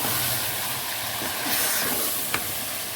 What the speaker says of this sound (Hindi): अब हम इसे अच्छे से भून लेंगे